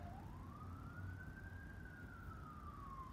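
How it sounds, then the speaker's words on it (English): Distant emergency vehicle siren during a rainstorm with local flooding, a single faint wailing tone that slowly rises and falls over a steady low rumble of background noise. "Sirens."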